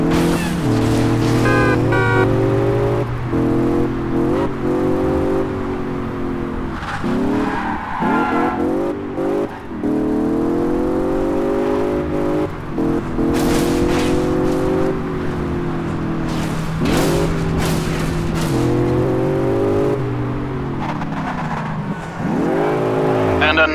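Race cars roar through a Crash Time Undercover game race, engines whining and shifting pitch as they accelerate and rev continuously, with occasional tire squeal, loud and close throughout.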